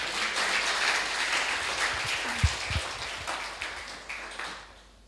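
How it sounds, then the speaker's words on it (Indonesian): A church congregation gathered for an Ascension Day service applauds, a steady, fairly soft patter of many hands clapping together that thins out and fades toward the end, with a few louder individual claps near the middle. "Kita berikan tepuk tangan bagi Tuhan sekali lagi."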